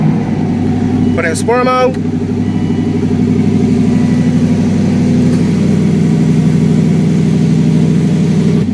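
An Aston Martin started with its crystal key, its engine settling into a steady, loud low idle that runs throughout, with brief chime-like tones early on and a person speaking over it.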